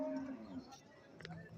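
A cow moos at a busy cattle market where calves and Jallikattu bulls stand for sale, a single drawn-out low call in the first half-second, followed by softer market noise and a brief higher sound.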